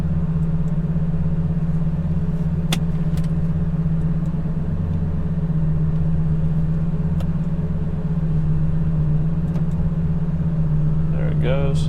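A 2004 Lamborghini Gallardo idles with a steady low rumble, then pulls away gently in first gear, the engine note staying close and even throughout, with a voice speaking over it.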